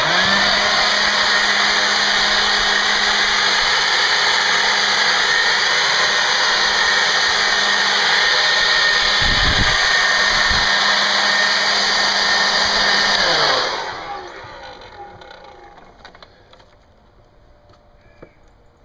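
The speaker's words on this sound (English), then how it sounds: "I have a lot of these blowers, and this is the one that I always end up grabbing first" A handheld air blower roars steadily and loud while drying a dirty van during detailing, a constant high-pitched whine with a low hum, then cuts off and spins down to quiet near the end.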